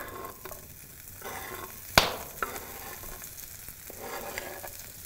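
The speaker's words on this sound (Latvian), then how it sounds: "Tad es vispirms lieku cepties gaļiņu." Meat fries in a pan for a traditional Latvian dish: a steady, soft sizzle throughout, with one sharp pop or clatter near the middle and a few small crackles.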